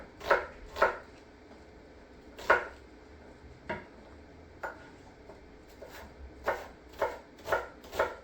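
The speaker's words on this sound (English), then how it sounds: "we've got one onion here that we're going to chop up into" An onion is chopped into dice on a board, with about a dozen distinct knife knocks at an irregular pace, some in quick pairs, close and fairly quiet, with no talk.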